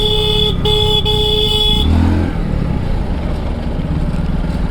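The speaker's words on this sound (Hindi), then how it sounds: "गंदी वाले ट्रैफिक में फंसे अभी हम।" Dense road traffic on the Pune to Mumbai route heard from a motorcycle, with car and bike engines rumbling steadily close by and a long horn blast sounding near the start before fading into the continuous traffic din.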